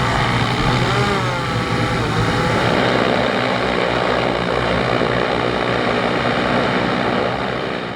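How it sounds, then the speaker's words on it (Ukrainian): A Kazhan heavy bomber strike drone flying nearby, a loud steady propeller and engine drone that holds unbroken throughout with no talk. "Кажан, да, тяжелый ударный дрон."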